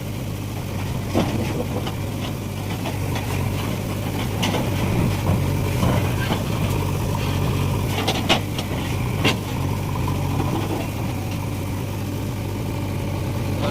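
A JCB machine tries to break a large stone during land levelling. Its engine drones steadily at a moderate distance, with a few faint knocks scattered through.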